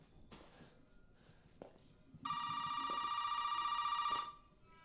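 An old-style telephone bell ringing in the horror video game Resident Evil 7, one sustained metallic ring of about two seconds that follows a few soft footstep-like knocks.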